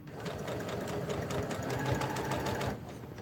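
Sewing machine running steadily as it stitches a quarter-inch seam around a fabric circle for a water bottle holder, a continuous close, fairly loud whirring buzz with rapid needle pulses that stops near the end.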